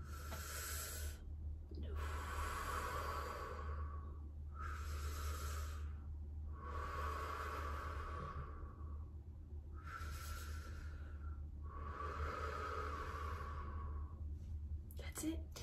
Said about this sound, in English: Okay, so let's do 3 deep breaths.